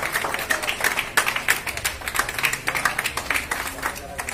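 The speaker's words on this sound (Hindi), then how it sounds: "तालियों के साथ" A crowd of people claps steadily at an honouring ceremony for sanitation workers, with clustered rhythmic clapping and some voices underneath.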